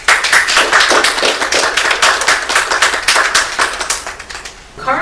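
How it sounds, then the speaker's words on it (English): Lecture audience giving a big round of applause, brisk, dense, close clapping that holds steady and then tapers off near the end as a voice starts speaking. "Let's please give a big round of applause to the library and the library's director, Angela Howell, and her staff."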